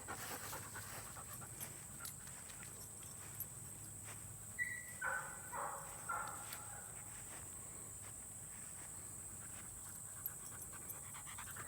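A dog pants quietly during an off-lead training session outdoors, a soft continuous breathing under faint ambient noise, with a few brief louder sounds around the middle.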